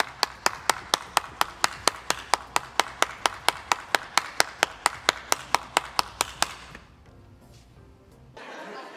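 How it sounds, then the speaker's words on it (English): Sharp, evenly spaced claps, roughly four per second and close up, run for about six seconds before stopping, followed by quiet room tone and a brief return of soft sound at the end. "Clap if you care."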